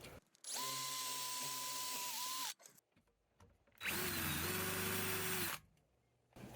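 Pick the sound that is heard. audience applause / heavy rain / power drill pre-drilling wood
power drill pre-drilling wood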